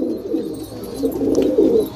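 Pigeons coo steadily inside a loft in Doraji, Gujarat, where about fifteen to twenty birds are kept, their low overlapping burbling calls loud and close with no talk over them.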